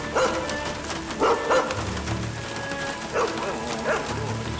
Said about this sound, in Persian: سگا آمادن قربان.